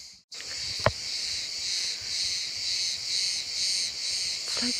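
Steady, loud cicada buzzing fills the air along a sandy walking track on Tilos Island, a continuous high drone that swells and dips in slow pulses, with one brief thump near the start.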